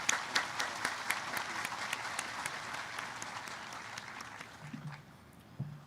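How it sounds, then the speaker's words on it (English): Graduation audience at the Rock Hill High School class of 2020 ceremony applauds, distinct claps near the start thinning into a softer, fading patter, fairly quiet overall. "Please join me in applauding their effort in making this graduation possible."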